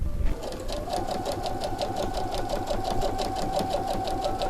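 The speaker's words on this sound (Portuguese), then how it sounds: "vou descer a parte curva todinha costurando com a medida de pé de máquina" A domestic sewing machine runs steadily, stitching a curved seam on a fabric zip pouch with a presser-foot seam allowance, a continuous close mechanical whir with a rapid rhythmic needle beat and no talking.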